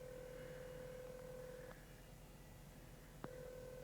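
Faint telephone line tone heard close on a handset, a steady single pitch that cuts out, pauses for over a second with a click, then resumes.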